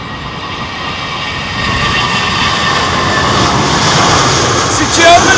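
A Lufthansa airliner in old livery passes at London Heathrow, a loud, close jet engine roar that builds gradually and holds, with a rising whine near the end.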